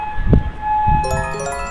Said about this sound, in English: You're hearing a new siren in Kuwait we haven't heard before.